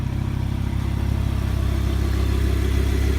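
A luxury sports car engine with a 205 mph electronically limited top speed and carbon fiber in its engine bay runs at a steady idle, a loud, even low rumble with no talking.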